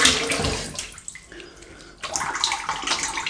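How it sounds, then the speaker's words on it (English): Water splashes and sloshes loudly at close range as a razor or face is rinsed during a wet shave with a Lothur Grooming Executive Shaving Outlaw razor, with a brief quieter pause in the middle before the running, splashing water picks up again. "let's have a quick rinse"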